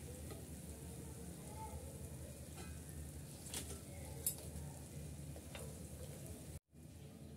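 Khaja pastries pinned with toothpicks are lifted out of hot frying oil, a continuous close sizzle with a brief scrape midway and a sudden short dropout near the end.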